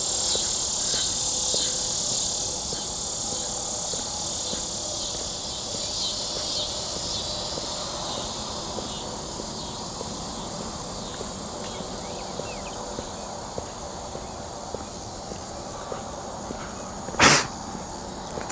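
A dense chorus of insects, like crickets, outdoors at night, a continuous loud high-pitched trilling drone that fills the whole stretch, with a brief sharp noise near the end.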